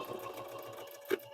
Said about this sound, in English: Now let's see if our back stitch will work.